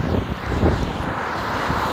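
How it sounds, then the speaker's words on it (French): Wind blowing on a rainy day outdoors near a road, a steady broad rumble of gusts buffeting the microphone throughout, loud and continuous. "il y a un petit peu de vent, ça souffle et en plus, il pleut"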